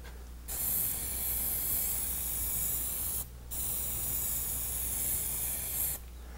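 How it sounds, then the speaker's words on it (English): An aerosol can of Plasti Dip coating hisses loudly through its standard spray nozzle in three long continuous bursts, separated by short pauses, close and steady. "Now this is the standard Plasti Dip spray nozzle."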